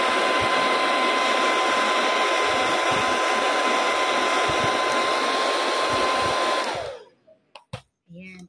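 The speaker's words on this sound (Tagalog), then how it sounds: "Cover your ears muna kasi mag-blower tayo." A hair dryer blows loud and steady at close range to loosen a price tag, then cuts off and spins down, leaving brief faint handling sounds.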